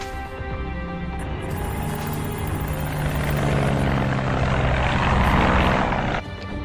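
A plane's engines drone loudly and steadily throughout, with a constant rumbling, buzzing hum close by and no voices.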